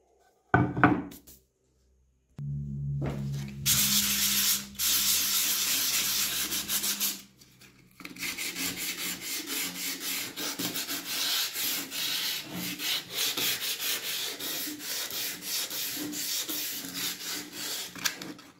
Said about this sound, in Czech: vidíte, jak je to krásné, jak se to brousí